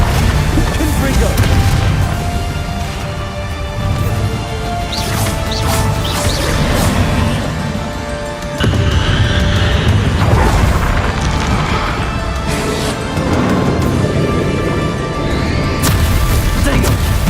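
Fiery blast spells from Hogwarts Legacy bursting again and again in a busy game battle, loud booming crashes and smashing impacts piling up over constant combat noise for the whole stretch.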